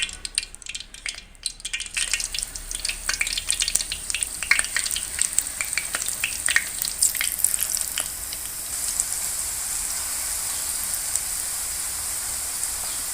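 Potato pakora frying in hot ghee in a pan: a quiet opening gives way to a steady, close sizzle dotted with crackles and pops, with no talking.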